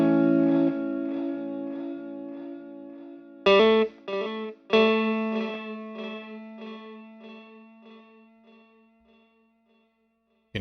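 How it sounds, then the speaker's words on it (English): A TE TapeEcho MkII delay pedal with its wow warble turned up high, bending sustained, heavily effected guitar tones in a wavering pitch wobble, with a few louder struck chords whose echoes fade away over several seconds. "So it's just I think just a sine wave warble, really. So it's pretty, and it's pretty drastic if you crank it up."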